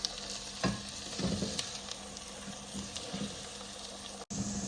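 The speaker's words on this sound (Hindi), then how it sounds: "और फिर इसको भूनूंगी।" Quiet frying of garlic, black cardamom and cloves in a pan, a soft sizzle with intermittent stirring scrapes and clinks, close up, briefly cutting out near the end.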